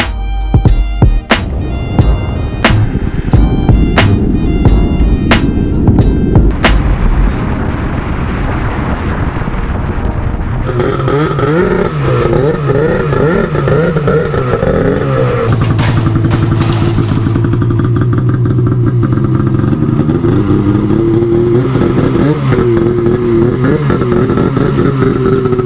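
Snowmobiles being loaded onto a trailer in Heber City, Utah, with engines revving loudly and steadily up close, mixed with clattering and wind buffeting, the roar shifting in pitch as they move.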